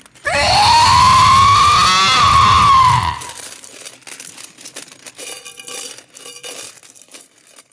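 A ghost's loud, wavering scream lasts about three seconds in an audiobook sound effect, then gives way to quieter metallic crinkling and rattling like chains.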